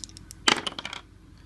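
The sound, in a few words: two dice rolled in a tabletop golf game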